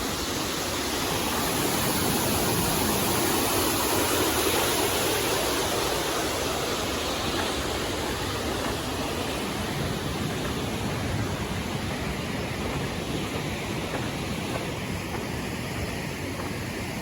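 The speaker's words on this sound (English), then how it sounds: "I don't know if this is Jumbo Falls or what this is called, but it's all part of Jumbo Creek" Jumbo Falls on Jumbo Creek along a glacier hiking trail, heard as a steady, broad rushing roar of falling water that holds constant and close throughout, with no voices.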